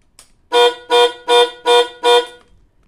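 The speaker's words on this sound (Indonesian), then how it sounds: "otomatis dia akan bunyi klakson patah-patah seperti itu seperti mobil" A motorcycle security alarm horn gives five loud, evenly spaced blasts, each short and harsh, in a steady rhythm up close with silence in between.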